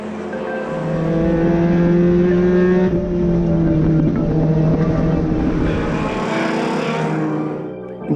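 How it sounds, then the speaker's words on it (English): Club racing cars roar steadily past on a circuit at a remembrance race, engines loud and continuous with gear-driven pitch shifts, fading slightly at the end. "there's a real variety of club racing cars on track"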